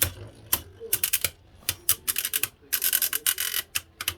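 Beyblade Burst spinning tops, Super Helios among them, clash in a stadium, a rapid string of sharp clicking, rattling hits close by, coming in irregular bursts with short quiet gaps.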